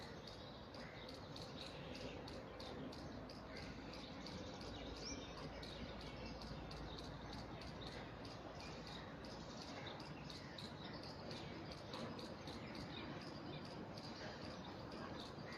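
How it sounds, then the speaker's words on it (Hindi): Birds chirp and call outdoors amid a dense, steady chorus of crickets or insects trilling throughout, faint and distant, with no talking. "चिड़ियों की चहचहाट जो अभी हो रही है उसके साथ एकाकार हो जाए"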